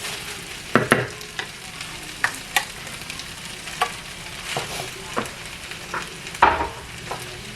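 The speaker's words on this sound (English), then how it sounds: "Alright, then we just stir that up and mix it." Rice is stirred and mixed in a hot pan while cooking, with a continuous sizzle broken by several sharp scraping strokes of the utensil, close and fairly loud with no voices.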